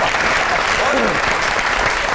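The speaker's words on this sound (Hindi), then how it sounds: "बहुत सी तालियां होनी चाहिए।" Studio audience clapping on a Pakistani TV talk show, a loud, dense and continuous patter filling the room, with voices faintly mixed in.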